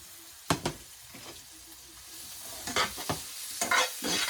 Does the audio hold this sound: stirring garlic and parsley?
yes